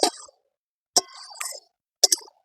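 A lid lifted off a pot where shrimp and taro stolons have simmered for ten minutes in a little water: three short, close metallic clinks and scrapes spaced about a second apart, with quiet pauses between and no voices.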